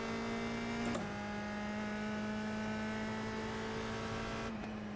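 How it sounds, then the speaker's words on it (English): A race car engine in the iRacing sim, Indy Pro 2000, holding a high steady drone against the rev limiter, with brief dips near the start and end. "I keep hitting the limiter in this because I want to rev it higher"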